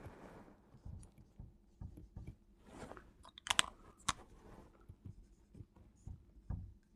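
Writing on a board during a chemistry lesson: a run of scratchy, uneven strokes with short pauses, a few sharper taps and squeaks standing out near the middle, close and fairly clear, with no talking.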